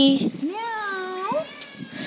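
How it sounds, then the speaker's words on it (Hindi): A stray cat at a temple gives one clear, drawn-out meow up close, a rising then wavering tone lasting about a second, with brief voices around it. "बिल्ली"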